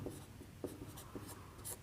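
Chalk or marker scratching on a classroom board during a chemistry lesson, short quiet strokes in an irregular rhythm, heard alone without speech.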